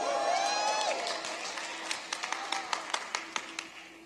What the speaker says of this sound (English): I don't know if that was clap worthy.